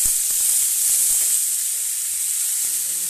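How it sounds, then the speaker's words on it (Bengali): Ridge gourd frying in a wok gives a steady, close hissing sizzle that stays even throughout, with no voices. "তো আমি ঝিঙেগুলো এবার ভেজে নেব।"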